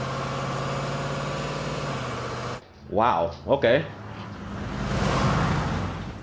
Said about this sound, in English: We're listening to loud truck now.